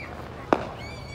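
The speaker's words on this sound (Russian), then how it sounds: "народ потихоньку разогревается самодельными фейерверками" Homemade fireworks set off by a crowd on a field at an Independence Day gathering: one sharp, fairly distant pop stands out briefly over steady outdoor background noise.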